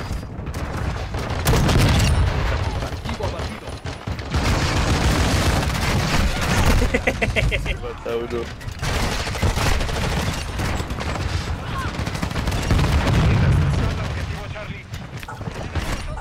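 Heavy gunfire and booming blasts from an automatic shotgun in Call of Duty: Modern Warfare, fired in loud repeated bursts with a dense, rumbling battle mix. A voice talks excitedly over the shooting.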